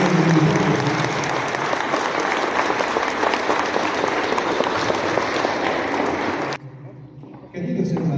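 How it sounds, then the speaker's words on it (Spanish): Loud, dense applause from a church congregation at a festive Mass for the feast of Saint John the Baptist, sustained for several seconds before cutting off abruptly, followed by a brief hush and then a voice starting to speak. "Le daremos un fuerte aplauso."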